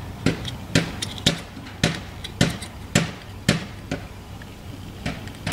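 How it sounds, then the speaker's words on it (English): Hammering from a neighbour's renovation work sounds in the background, with sharp, regular blows at about two per second, moderately distant and clear, with no talking over it. "Sorry about the background noise, my neighbor is doing renovations."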